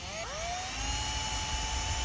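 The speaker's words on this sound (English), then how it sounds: "We're going to test drill some holes in each corner and make sure things fit. And I'm using my smallest drill bit." A power drill fitted with a small bit bores test holes through a van's metal roof, a steady high whine that rises in pitch as the motor spins up and holds close and clear, with no voices.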